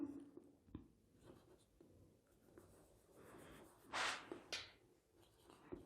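Chalk or marker scratches on a board during a lecture, with soft intermittent strokes and a louder burst of scribbling near 4 s, faint and close.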